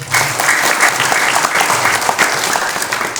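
Crowd at a martial arts grading event applauds athletes being introduced, with loud, close, sustained clapping filling the whole stretch.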